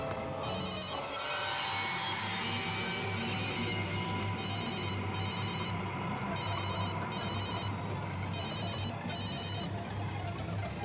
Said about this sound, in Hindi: रिया प्लीज फोन उठाओ।